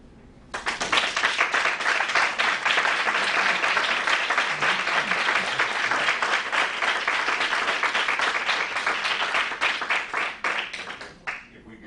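Audience applause at a community college district board meeting, a dense, steady burst of many hands clapping that starts abruptly, holds strong for about ten seconds, then tapers off.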